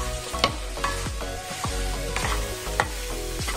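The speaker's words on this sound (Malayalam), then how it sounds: "ഇനി നമുക്കൊന്ന് തുറന്ന് നോക്കിയിട്ട് ഒന്നുകൂടെ ഇളക്കി കൊടുക്കാം" Chicken roast sizzling in a pan while being stirred, with repeated sharp spatula scrapes and knocks against the pan over a steady close fry hiss, no talk.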